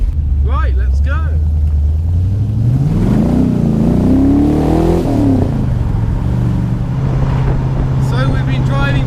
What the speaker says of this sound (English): So we've been driving for a good half hour now